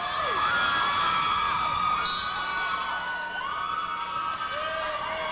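Mandan fans in the cheering section roar through a 1998 state girls basketball semifinal, a loud, sustained crowd din with rising and falling tonal whistles or siren-like noisemakers riding over it throughout.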